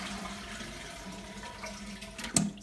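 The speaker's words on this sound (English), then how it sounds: "press your flush valve and empty all of the water out of the tank" A Caroma toilet with top-mounted flush buttons is flushed, its tank emptying in a steady rushing wash of water with a brief louder gurgle near the end, close and unaccompanied by talk.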